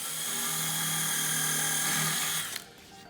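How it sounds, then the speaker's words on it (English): A steady, high-pitched power drill whines continuously for about two and a half seconds while drilling holes in an epoxy countertop, then cuts off abruptly, leaving quiet room tone. "now I'm just gonna start drilling through these holes"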